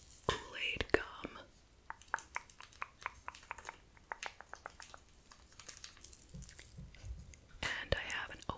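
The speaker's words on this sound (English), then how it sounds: "I am going to be chewing Kool-Aid gum." Grape Kool-Aid gum chewed close to the mic, with soft wet clicks and smacks in a steady rhythm, mixed with crinkling of its double wrapper and whispering at the start and end.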